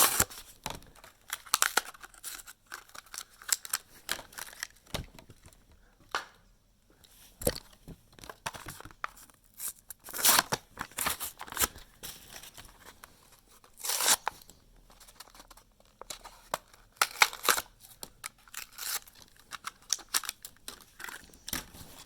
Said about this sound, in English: both Dodge Durango Matchbox SUVs unboxed fully from the card packaging